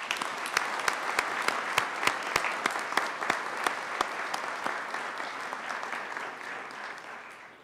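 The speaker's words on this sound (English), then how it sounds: "please join me in a round of applause" Audience at a college commencement ceremony applauds, a dense sustained round of clapping from a large crowd with sharp individual claps standing out, holding steady and then gradually tapering off.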